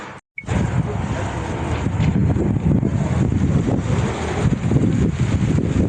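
Steady, heavy wind buffeting the microphone in Çeşme, Turkey, on the Aegean coast in late December, a dense low roar that starts after a brief gap and continues without letup.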